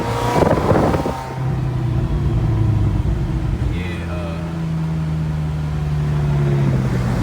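A McLaren 570GT with a stock twin-turbo V8 of about 600 horsepower, a low steady engine drone and rumble from inside the cabin as it drives, with a voice talking over it.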